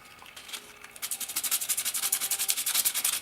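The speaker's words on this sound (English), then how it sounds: "I'm going to take my Lexan, I'm going to rough that up with some sandpaper as well." Sandpaper roughs up a piece of Lexan plastic for a Ford Fiesta ST fourth brake light, starting with soft light scratching, then settling into quick, rhythmic back-and-forth rasping strokes close by.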